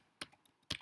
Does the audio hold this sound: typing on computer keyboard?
yes